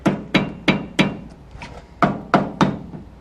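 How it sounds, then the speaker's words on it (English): Hammer striking the steering knuckle of a 2014-2018 Silverado truck to free the ball joint during a lift install: eight sharp metallic blows in an uneven rhythm, loud and close, with no voices. "You want to hit the knuckle to get the ball joint to release."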